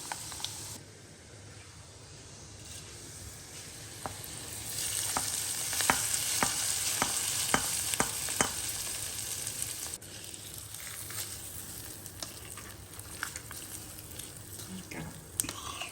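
Oil sizzles and crackles steadily in a pan while tempering for an Andhra-style dried red chilli gongura roti chutney, with a run of sharp stirring clicks and scrapes in the middle; nobody speaks.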